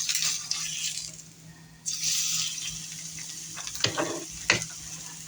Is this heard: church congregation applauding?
no